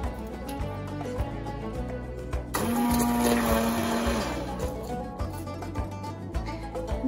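A kitchen blender grinds vegetable soup base, its motor roaring up loud and steady for a couple of seconds in the middle, framed by quieter clattering kitchen noise before and after.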